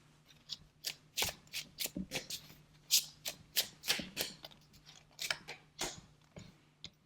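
Tarot cards being shuffled by hand in a quiet room, a run of crisp riffling bursts in uneven rhythm, close and fairly soft, with a faint low hum underneath and no talking.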